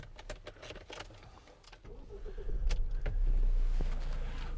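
A set of keys for a Ford Transit Custom 2.0 TDCi van jangles and clinks close by in bursts, followed by a low engine-like hum building up underneath.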